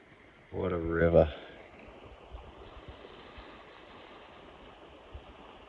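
A river in the bush rushes with a faint, steady broadband wash after a person briefly speaks at the start.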